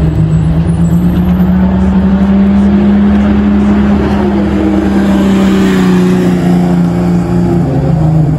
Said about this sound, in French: Regardez qui arrive, c'est la McLaren 750 S.